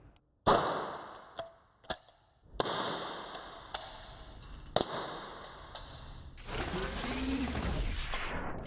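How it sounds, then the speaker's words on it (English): A less-lethal launcher fires a training round: a sharp crack stands out among several metallic clicks and handling taps, and a burst of broadband rushing noise follows near the end. "I'd come up on target, take the safety off, and then shoot."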